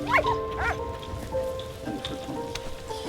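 Dog barking in the World War I video game Soldats Inconnus, a few short yelps near the start over a steady backdrop of rain and ambient game tones.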